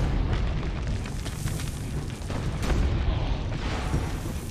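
Cannon fire in Assassin's Creed Brotherhood booms through a dense, rumbling roar, with a sharp blast cracking out midway amid continuous loud, noisy explosions.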